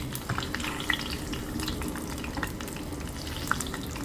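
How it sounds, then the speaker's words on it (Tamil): Bonda dumplings fry in hot oil, giving a steady close sizzle and bubbling with occasional sharper pops and a light stirring clatter. "கொதிக்கிற ஆயிலில் போண்டாவை போட்டு எடுத்துக்கொள்வோம்."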